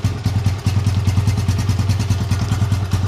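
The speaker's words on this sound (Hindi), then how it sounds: "इंजन का साउंड सुन लो" An old Honda 125 motorcycle engine idles close by with a steady, rapid thumping beat and a mechanical clatter, loud and even throughout with no voices.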